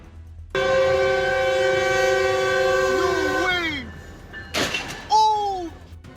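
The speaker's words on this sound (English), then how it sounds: "The train thundered forward" A train horn blares long and steady, then bends and fades, followed by brief rattling and a couple of short falling tones.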